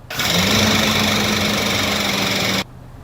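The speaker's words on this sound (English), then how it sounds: "this is the engine that came out of our 2015 Chevy 2500 that was knocking" Knocking 6.0L LS V8 from a 2015 Chevy 2500, later found to have a bent rod and a blown head gasket, running as a loud steady mechanical drone with a sustained tone, cutting off abruptly before a quieter tail.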